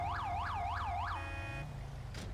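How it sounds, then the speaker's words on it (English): An ambulance siren in GTA 5 sweeps up and down in a repeating wail, loud and near. It cuts off partway through, leaving a low engine rumble and a short burst of noise at the end. "I do hear an ambulance. Here it comes."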